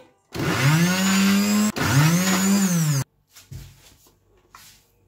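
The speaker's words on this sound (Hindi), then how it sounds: "अब टमाटर के साथ इसे भी ग्राइंड करते हैं।" A mixer grinder whirs loudly for two short bursts with a brief pause between them as it grinds tomatoes and mango into chutney, then stops, leaving a few quiet knocks.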